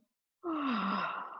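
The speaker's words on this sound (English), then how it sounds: "Yawn." A single long, breathy yawn during a yoga session, starting suddenly after a moment of silence with a voiced falling tone and sustaining close up until the end.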